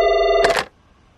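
A telephone rings in a Domino's Pizza commercial, a steady electronic ring that cuts off abruptly and leaves near silence.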